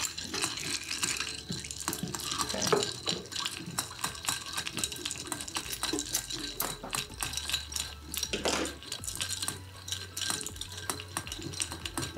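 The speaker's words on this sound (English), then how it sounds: "Fill that with ice, give that a stir." Ice cubes clink and swirl as a gin cocktail with orange bitters is stirred in a mixing glass, a close, busy run of rattling and tinkling taps throughout.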